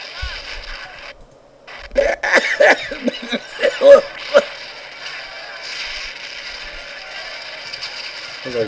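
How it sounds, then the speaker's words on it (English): A man coughs repeatedly in the horror adventure game Harvester, a cluster of harsh, wet coughs from behind a door, fairly close, over a steady low background hum. "Looks like Dad's in there coughing up a lung."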